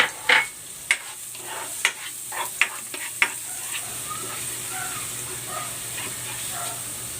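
Garlic sautéing in cooking oil for lumpia filling, a steady close sizzle with several sharp clicks of a spatula stirring through the pan near the start, no voices.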